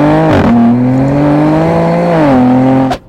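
A BMW M2 engine pulls hard from inside the cabin, a loud steady roar climbing in pitch. It dips briefly at a gear change, climbs again, then cuts off sharply at the end.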